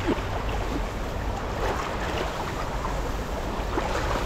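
A strong current of shallow water rushes past in a steady, broadband wash, close and continuous without a break, with no talking.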